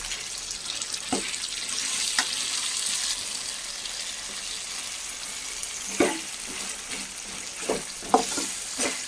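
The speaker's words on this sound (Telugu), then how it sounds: "టమోటాస్ని కట్ చేసుకుని ఇలా నీట్గా ఇంకాస్త వచ్చేలాగా వచ్చేంతసేపు వేయించుకోవాలి" Cut tomatoes frying in oil in a pan for tomato chutney, a steady soft sizzle with occasional sharper pops and stirring clatters, close by with no talking.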